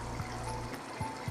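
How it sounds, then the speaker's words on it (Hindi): Half a cup of water poured into a simmering potato curry, a brief steady trickle and splash lasting under a second before fading into the low bubbling of the pot. "1/2 कप पानी और डाल रही हूँ।"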